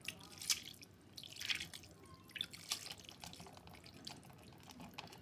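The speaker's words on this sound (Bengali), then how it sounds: "আমি এখন একটু পানি অ্যাড করে দেবো।" Small splashes and drips of water fall onto small chapila fish in a pan, several soft, irregular droplet sounds spread over a few seconds, faint and close.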